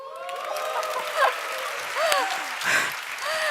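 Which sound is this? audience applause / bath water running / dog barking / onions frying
audience applause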